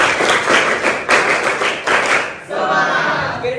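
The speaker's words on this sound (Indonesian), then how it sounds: "Oke, tepuk semangat." Rhythmic group clapping from a classroom of participants performing a patterned spirit-clapping routine at a teacher mentoring session, steady bursts of claps filling most of the moment before tapering off near the end.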